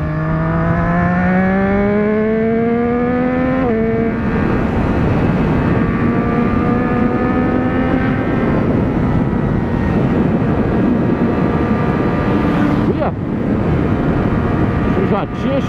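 Vehicles accelerate hard on the Linha Verde road in Curitiba, a loud close engine drone rising steadily in pitch through the gears with a brief shift break, running under talk.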